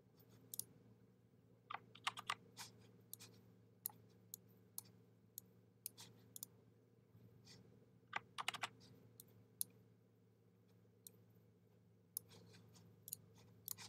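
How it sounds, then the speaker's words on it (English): Computer keyboard keys click in quick, irregular bursts while a name is typed into a Canva label design, with a faint steady hum underneath. "I'm typing name."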